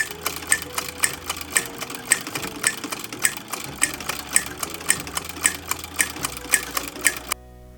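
A sewing machine stitches a buttonhole around an apron, a rapid regular clatter of needle strikes over a low motor hum, close and steady until it stops near the end.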